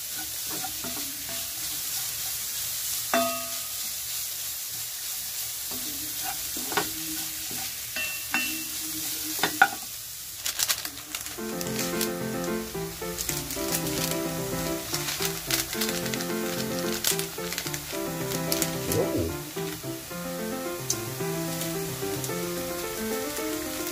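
Banana heart sisig frying and being stirred in a pan, a steady sizzle under repeated scraping and stirring strokes, close and continuous with no talk.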